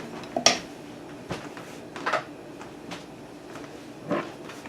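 A spatula working a roux in a pan for lobster mac and cheese: a few sparse scraping knocks and clinks against the pan, quiet between strokes.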